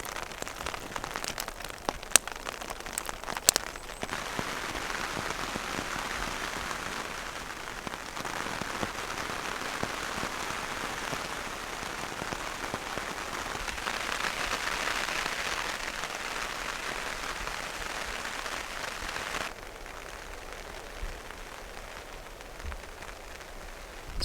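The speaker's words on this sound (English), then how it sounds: "So it doesn't look like this rain's letting up anytime soon." Rain pattering steadily on a tarp shelter at an overnight bushcraft camp, a dense continuous patter with a few sharper drips early on, no talking.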